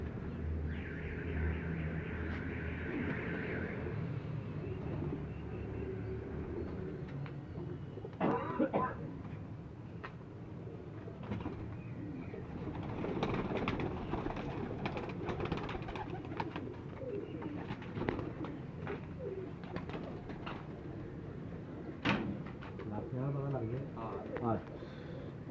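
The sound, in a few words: pigeons cooing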